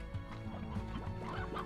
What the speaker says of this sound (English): There's a fucking lot of chickens here.